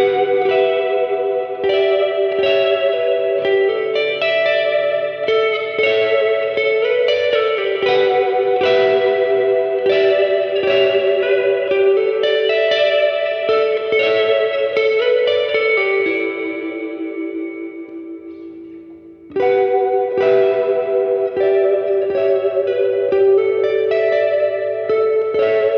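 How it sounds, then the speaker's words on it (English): Clean Fender Jazzmaster chords on the rhythm circuit, strummed in a steady rhythm, mellow and warm with chorus and reverb, playing continuously with a brief dip before resuming. "The rhythm circuit is one of my favorite features of the Jazzmaster and Jaguar."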